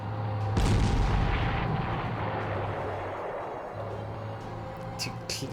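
Artillery fire in the wartime strategy game Panzer Corps, a heavy boom followed by a long rumbling roll that slowly fades, with a faint low hum underneath.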